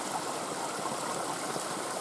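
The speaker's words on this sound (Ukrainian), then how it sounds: "смачною водою, що біжить по жолобу" Spring water runs along a chute near a waterfall in the Polonyna Zalim area, a steady, close, full rushing stream with no voices.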